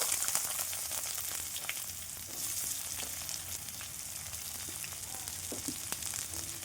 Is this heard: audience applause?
no